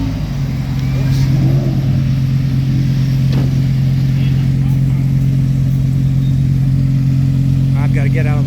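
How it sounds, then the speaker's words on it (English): An Acura GT3 race car rolls through a race paddock at Road America, its engine a loud steady low drone close by, with people talking over it. "Here comes the J.G. Wentworth GT3 Acura coming through here"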